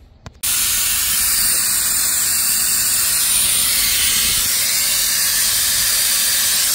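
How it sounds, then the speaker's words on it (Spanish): Engine oil drains out slowly during a motor oil change, heard as a loud, steady hiss that starts abruptly after a brief quiet moment and continues unbroken to the end. "Ahí va poco a poquito sacando el aceite."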